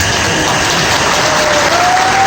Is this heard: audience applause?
yes